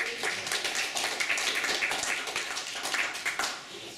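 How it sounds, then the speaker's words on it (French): Applause from an audience at a Front National constituency assembly in Trignac, a steady patter of many hands clapping, fairly faint and distant, with no clear speech over it. "Vous pouvez les applaudir"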